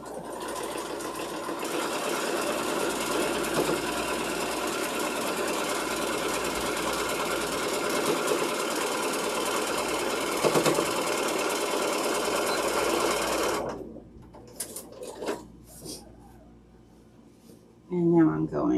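A sewing machine stitching a quarter-inch seam on quilted panels runs loud and steady for about fourteen seconds, then stops, leaving soft handling noises and a brief burst near the end.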